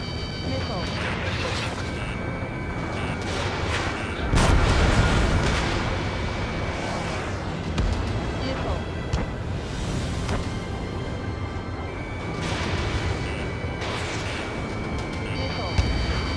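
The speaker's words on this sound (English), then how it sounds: "Missile away. Target destroyed by Strider 1." Missiles explode during aerial combat in Ace Combat 7: Skies Unknown, with dull booms and crashes over constant jet engine roar, under radio chatter.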